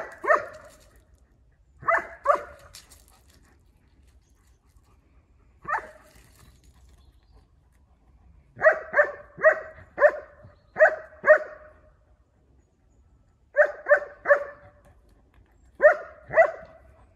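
Small dogs, a German Shepherd and a pit bull puppy, barking in quick bursts of two to four yaps, separated by short pauses, fairly close and clear with no talking.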